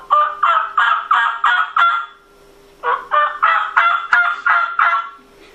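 A hand-held turkey call imitates a mother wild turkey, giving two close, loud runs of repeated yelping notes in steady rhythm separated by a short pause.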